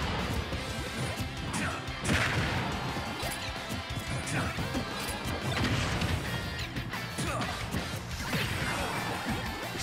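Forward smash attacks land in a Super Smash Bros tournament match, sharp crashing hits and whooshes layered over a dense, loud wash of game sound and crowd noise.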